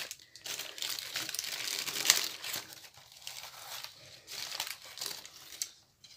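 Packaging crinkles and rustles as a parcel is unwrapped, with bursts of crackling plastic and paper handling, one sharper tear or snap partway through, and quieter pauses between the movements; close and fairly soft.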